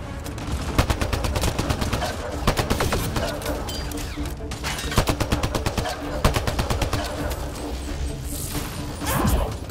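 Rapid automatic gunfire in the Mass Effect Andromeda video game, dense bursts of shots with crashes and game effects running nearly continuously and loud throughout.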